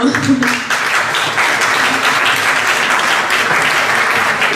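An audience at an award ceremony bursts into loud, sustained applause, dense clapping from many hands that fills the room throughout, with a voice faintly audible at the start.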